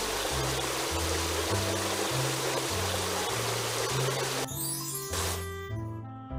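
Spray of water rinsing foam off a fire truck in a Baby Bus kids' game, a continuous rushing hiss over cheerful music that gives way to a short jingle near the end.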